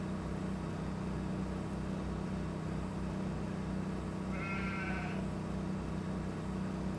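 Sheep bleat in the Farming Simulator 2013 video game, one short harmonic bleat around the middle of the clip over a steady droning hum of game ambience and engine noise.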